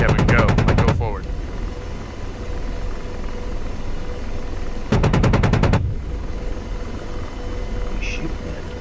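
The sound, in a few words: AH-64D Apache helicopter gun firing in DCS World video game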